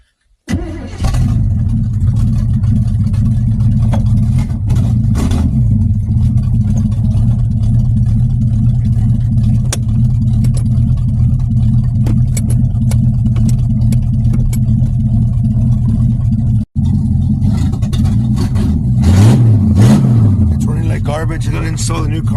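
A hot rod's engine starts with a brief crank, then rumbles loud and close at a steady idle, with occasional revs rising and falling; someone talks now and then over it.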